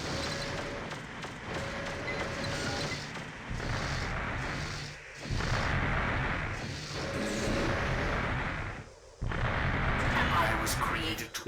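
Explosions and weapon fire from the mech combat video game Armored Core: Master of Arena rumble in heavy, booming bursts with a couple of brief drops to near silence, set under game noise and other busy sound.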